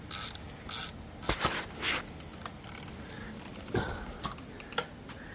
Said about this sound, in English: Cody's tightening the cowl back on. So again, you got 3 Torx head screws